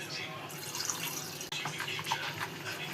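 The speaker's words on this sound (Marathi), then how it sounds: "आपण यात गरजेनुसार पाणी टाकणार आहोत." Water poured into whisked curd while making buttermilk, giving a steady liquid trickle and splash that runs throughout, with a brief break midway and faint room noise behind it.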